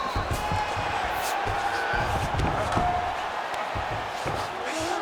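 Arena crowd noise in the UFC 5 video game, with a steady roar of cheering during a St. Pierre versus Edwards bout as the fighters return to their feet after a long grappling exchange, continuous and fairly loud throughout.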